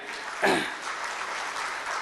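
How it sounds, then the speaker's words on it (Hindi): Faint applause from a crowd, a soft, continuous patter of clapping with a brief swell near the start. "एक बार जोरदार तालियां।"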